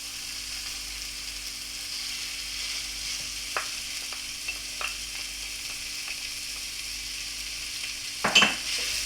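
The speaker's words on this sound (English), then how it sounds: "So now we can add our mince to brown." Mince browning in a pan with softened onion and mushroom, a steady even sizzle with a few light utensil taps and a louder scrape near the end, close and without voices.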